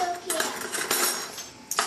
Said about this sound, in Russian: Ну что, Арон, ешь ложкой?